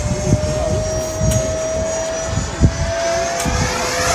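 A Freewing Avanti 80mm EDF RC jet on a 6S battery makes a loud, steady high-pitched ducted-fan whine with a sustained tone as it flies nearby, its pitch shifting slightly as it passes. No voices are heard.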